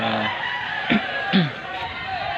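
Short crowing calls from fighting roosters rise over a busy, noisy background of people talking and murmuring at a fiesta cockfight.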